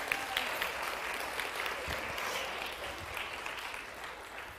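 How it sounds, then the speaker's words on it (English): A church congregation gives a steady wash of applause for the children during an adult service, even and moderately distant, with no voices rising above it. "Can we give the kids a clap?"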